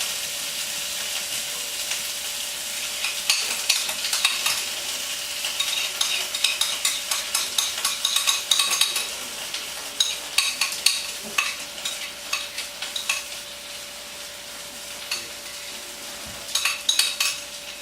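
Drained potatoes stirred with cream cheese in a saucepan, giving repeated scraping and clinking strokes of a utensil against the pan. A faint background sizzle and steady hum run underneath.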